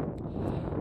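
Wind gusts blowing across a mountain ridge in the Alps, a steady low rushing roar buffeting the microphone with no voices.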